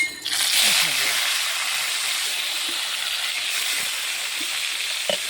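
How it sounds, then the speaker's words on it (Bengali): Turmeric- and salt-rubbed fish fries in hot oil in a wok, a loud, steady hiss that surges at first and then holds evenly, with a faint voice and a small clatter near the end. "আস্তে আস্তে সুন্দর করে ভেজে নেব।"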